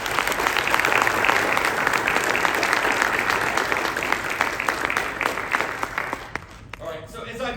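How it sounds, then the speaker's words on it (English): Audience applause for football players at a high school Division 1 signing day, steady dense clapping from a crowd in a room, sustained for several seconds before thinning out and fading near the end. "Let's give it a round of applause for these gentlemen real quick."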